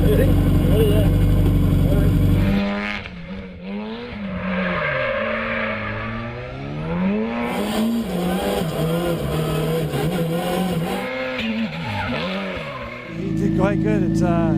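A V8 Supercar race car roaring at full throttle, then dropping into a wavering engine note that rises and falls through gear changes and cornering before surging loud again, with people talking over it.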